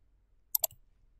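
Two quick, close mouse clicks land in rapid succession on a software icon, sharp and crisp against near silence.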